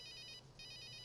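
A telephone rings in the PC adventure game Runaway: A Road Adventure, a loud electronic trilling ring in quick repeated bursts, briefly pausing between rings before starting again, with no talking.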